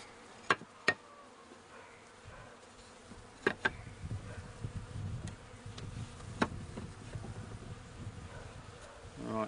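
Honey bees buzz around an open top bar hive, a steady low drone of many insects close by, broken by a few sharp clicks and knocks of hive bars being handled.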